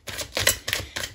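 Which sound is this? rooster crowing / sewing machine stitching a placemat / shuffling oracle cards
shuffling oracle cards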